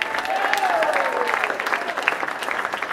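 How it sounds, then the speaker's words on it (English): An audience gives a round of applause for a Paula Deen impersonator, steady close clapping with some crowd noise lasting throughout. "Let's have a round of applause for Paula Deen."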